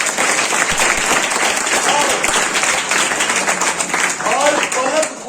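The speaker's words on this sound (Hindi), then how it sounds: "एक बार ताली बजाइए इनके लिए।" An audience at a coaching centre's monthly test results ceremony claps loudly and steadily for a student, a dense unbroken burst of applause with a voice speaking faintly underneath.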